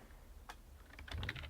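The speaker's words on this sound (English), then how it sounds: "Let me use this keyboard." A computer keyboard clicks in a quiet room: a few isolated taps, then a quicker burst of keystrokes, soft and close.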